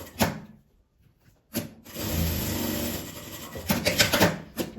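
A sewing machine runs along the edge of a fabric pad pouch, a whirring stretch of rapid stitching that follows a couple of brief mechanical clicks and then continues with uneven bursts near the end.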